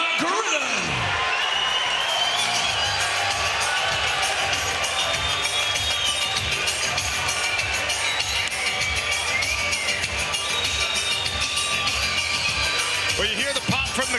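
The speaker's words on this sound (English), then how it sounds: "you hear the pop from the crowd" A packed arena crowd at a PFL Europe 2023 MMA event roars in a sustained, loud wall of cheering as fighter Lewis McGrillen walks out, with an announcer's voice over it.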